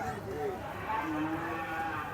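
Several cattle low at a busy 2024 Qurbani cattle market at Nabiganj haat in Narayanganj, a steady series of overlapping moos from nearby and farther animals over a constant crowd murmur.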